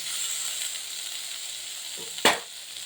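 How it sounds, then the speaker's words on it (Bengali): Pumpkin and eggplant frying with chili powder and turmeric give off a steady close sizzle, broken near the end by one sharp stirring scrape, with no talk over it. "লঙ্কা গুঁড়ো আর হলুদ গুঁড়ো দিয়ে এবার আমি আবারও সুন্দর করে নাড়তে থাকবো কুমড়ো আর বেগুনটা"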